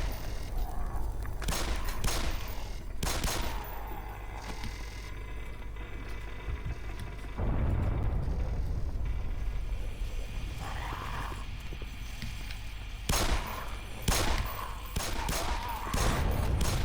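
Gunfire in Half-Life: Black Mesa, several loud shots and short bursts cracking out over a steady game ambience, with quieter gaps between volleys.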